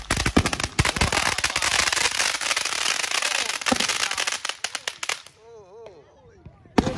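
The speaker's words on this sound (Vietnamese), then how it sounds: "mặc dù là đốt pháo bông thôi nhưng mà có điều là dữ dằn đó" Fireworks and firecrackers set off at a Fourth of July backyard celebration in America go off in rapid, loud crackling volleys of sharp bangs for about five seconds. A voice is heard briefly as the bursts die down, then a final pop.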